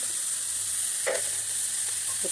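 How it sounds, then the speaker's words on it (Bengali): Potatoes sizzle in a small amount of hot oil in a pan for an egg omelette curry, a steady close hiss with a faint stir or scrape partway through, no voices. "আলুগুলো ভেজে নেব অল্প তেলে"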